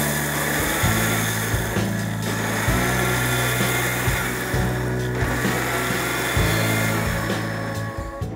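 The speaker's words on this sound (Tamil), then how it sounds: "இதை நம்ம இப்போ மிக்சியில் போட்டு அரைச்சிடலாம்." A mixer grinder coarsely grinds roasted flattened rice (aval) in its jar, a loud steady motor whir that runs the whole time with pulsing surges as the contents churn.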